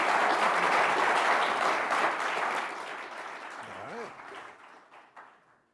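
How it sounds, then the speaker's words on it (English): An audience at a forum on offshore critical minerals applauds the panelists, a full burst of clapping that gradually tapers off, with voices rising faintly beneath it as it dies away. "Please give a round of applause for our great panelists"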